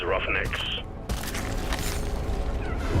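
Holiday fireworks in the video game Arc Raiders crackle and boom in quick bursts, with a brief high whistling streak at the start followed by dense, loud crackling fusillade throughout.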